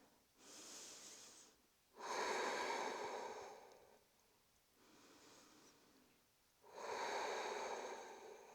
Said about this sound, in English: Take a couple of breaths here.